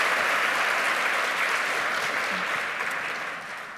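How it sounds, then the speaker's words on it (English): Applause for a speaker at a women of color in golf event, a dense, loud round of clapping from an audience that tapers off slightly toward the end. "Can we have a round of applause one more time for Arlene?"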